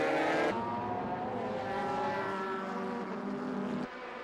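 Honda NSX GT cars in the 1998 JGTC race roaring into the first corner, a dense, loud multi-car engine howl with shifting pitches, sharply louder at first before settling into a steady blare.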